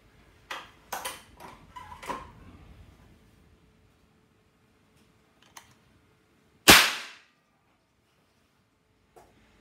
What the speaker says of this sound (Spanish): Ahora vamos a ver cómo funciona el sistema cero recoil al disparar.